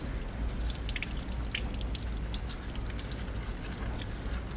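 Tap water runs steadily over a mangosteen as it is cut and rinsed at the sink, a continuous close splashing stream with scattered drips.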